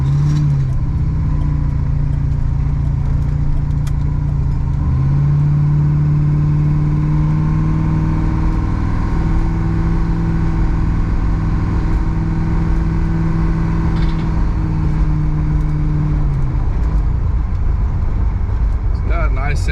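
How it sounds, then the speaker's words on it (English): A 1977 Pontiac Trans Am's engine and exhaust rumble steadily at close range, the deep idle swelling briefly as revs rise and settle, with talking layered over the running car. "It's got a nice sounding exhaust."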